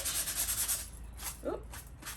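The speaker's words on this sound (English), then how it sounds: "I just get like a 120 sandpaper and just run it along the edge" Rhythmic, close rubbing strokes of 120-grit sandpaper run along a board's edge, a soft scratchy swish repeating several times with a brief voice in the middle.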